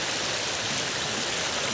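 A jungle stream flows in a steady, soft, even rush of water with no other sounds over it for the whole short moment.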